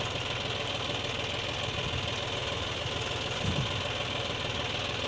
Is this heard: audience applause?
no